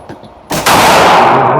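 A Great Lakes Synergy pistol fires a sharp, loud shot that cracks out after a brief quiet lead-in, followed by a dense ringing report that fills the rest of the moment.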